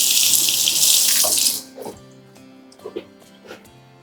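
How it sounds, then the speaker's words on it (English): Hot water gushes from a kitchen faucet over a knife blade, a loud steady hiss for about a second and a half before it is shut off. A few light clinks and taps follow in the quiet. "I like to put the blade under some hot water."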